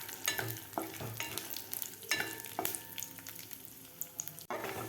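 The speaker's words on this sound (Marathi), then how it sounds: "बारीक गॅसवर आपल्याला हे दोन मिनिट ड्रायफ्रूट फ्राय करून घ्यायचे आहेत" Dry fruits fry in ghee over a low flame, with a soft sizzle and repeated close scraping and stirring strokes in the pan.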